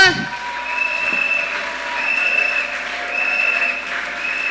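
A church congregation claps and cheers for God, a sustained wash of applause and crowd noise that starts abruptly, holds steady and fairly loud, with voices mixed in.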